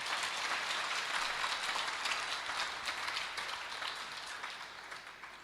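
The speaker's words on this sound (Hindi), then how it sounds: "अरे एक बार जोरदार ताली बजाइए तो पता लगे।" Devotees at a Khatu Shyam katha gathering clapping together, a dense, fairly loud burst of many hands that holds steady before fading slightly toward the end.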